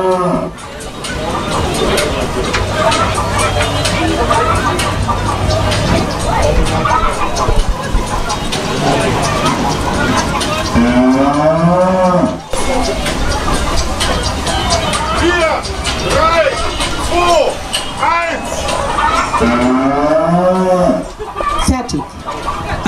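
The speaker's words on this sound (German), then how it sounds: "Nach dem Mu hast du Zeit, mich zu melken." A recorded cow moo plays from a cow-milking game at the Hamburg Frühlingsdom fair, rising over a loud, steady crowd babble and fairground din, with voices talking throughout.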